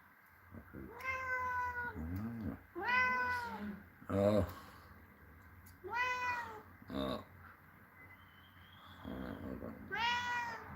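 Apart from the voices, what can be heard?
cat meowing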